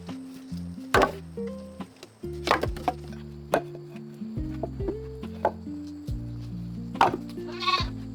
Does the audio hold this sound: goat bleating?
yes